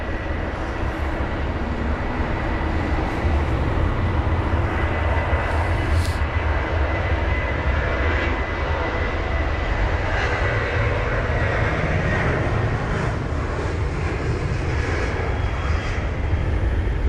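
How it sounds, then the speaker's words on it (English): A 23-year-old KLM Boeing 737-800 bound for Amsterdam takes off from London Heathrow in wet spray, its jet engines giving a steady, loud, broadband roar that holds throughout with no voices. "It's this Boeing 737-800 heading to Amsterdam with KLM."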